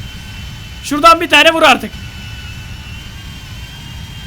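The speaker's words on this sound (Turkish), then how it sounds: "Aa büyük uçak geliyor bak." In GTA V, a jet airplane's engine roar hums steadily in the background as it flies overhead, while someone speaks briefly over it.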